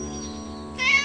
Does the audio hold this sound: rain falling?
no